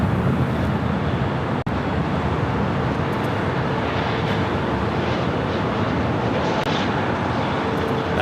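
Airliner departing a runway at Los Angeles LAX on a flight to JFK, a steady broad jet roar that stays loud and even throughout, with one brief sharp click near the start.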